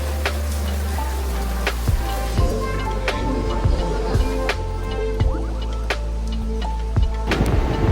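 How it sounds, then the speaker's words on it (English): Heavy rain pours down outdoors in Gyeongju, South Korea, a steady wash of drops and drips with occasional sharp splats, close and continuous throughout with no talk. "it started pouring down like there is no tomorrow"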